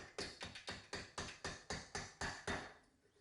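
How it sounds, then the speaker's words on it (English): Hammer blows driving a camshaft into an engine during a rebuild, about ten sharp, evenly spaced metallic knocks in a steady rhythm, loud and close, with no talking, then fading into quiet. "please ignore the hammer"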